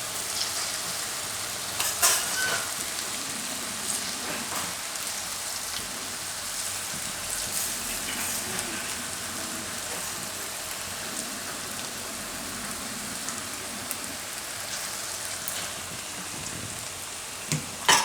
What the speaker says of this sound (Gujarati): એકદમ સરસ કડક થાય ત્યાં સુધી તળી લેવું.